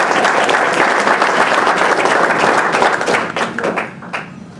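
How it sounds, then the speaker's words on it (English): An audience at a Missouri governor's economic development event breaks into dense, loud applause, many hands clapping together steadily before thinning out and fading over the last second. "Mr. Dooley will lead the applause for 80 new jobs in this county."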